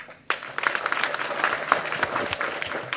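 After a quiet start, an audience breaks into applause for Kamal Haasan at a film event, a sustained, fairly distant wash of clapping with sharper individual claps standing out.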